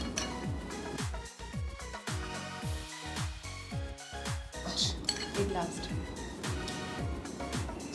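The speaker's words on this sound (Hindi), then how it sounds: "बराबर चम्मच इक्वल बांट रहे हम" Steel spoon clinking and scraping against plates while pav bhaji is served out in equal spoonfuls, with repeated sharp metallic chinks and taps close by, under steady conversation.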